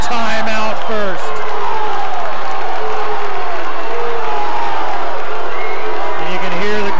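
A boisterous crowd at a Green Canyon basketball game against Stansbury fills the gym with a steady roar and scattered cheers, while a commentator's voice runs on top throughout.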